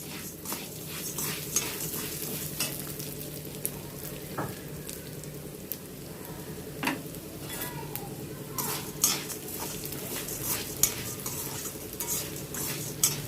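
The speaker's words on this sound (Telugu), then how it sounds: "పప్పులు సగం పైన వేగినాయండి. ఇప్పుడు ధనియాలు వేస్తున్నాను." Lentils and coriander seeds dry-roasting in a pan for curry leaf spice powder, with continuous scraping stirs, light rattling of grains and clinks of utensil on metal, fairly quiet and close.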